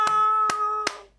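Three sharp, evenly spaced hand claps from a studio audience on a comedy talk show, close and crisp, with a ringing tone hanging under them before fading out.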